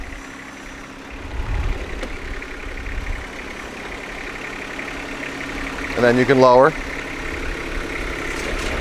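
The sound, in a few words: John Deere 1025R tractor engine driving forward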